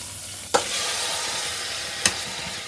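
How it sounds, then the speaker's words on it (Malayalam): Mustard seeds, curry leaves and green chillies frying in coconut oil in a pressure cooker, a steady loud sizzle broken by two sharp spatters or pops. "കുക്കറിൽ കുറച്ച് വെളിച്ചെണ്ണ ആഡ് ചെയ്ത് കൊടുത്തിട്ടുണ്ട്. അതിന് ശേഷം നമ്മൾ സാധാ യൂസ് ചെയ്യുന്നതിൻ്റെ കടകും അതുപോലെ തന്നെ കരിവേപ്പിൻ്റെയും പച്ചമുളകൊക്കെ ആഡ് ചെയ്ത് കൊടുക്കുന്നുണ്ട്."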